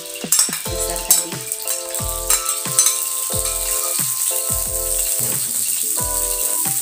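Blended spice paste hitting hot oil in a pan, a steady loud sizzle broken by repeated sharp clinks and scrapes of a utensil stirring against the pot.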